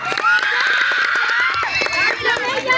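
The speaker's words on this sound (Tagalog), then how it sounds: "Wala bang hiyawan at palakpakan dyan?" A pageant audience cheers and screams with loud, high-pitched overlapping voices close by, forming a packed wall of excited crowd noise throughout.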